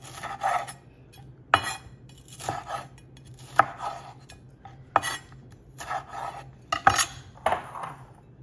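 A kitchen knife slices bell peppers into thin strips on a board for sautéed peppers and onions, giving crisp, close chopping strokes roughly once a second with quieter scraping in between and no speech.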